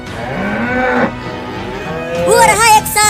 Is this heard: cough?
no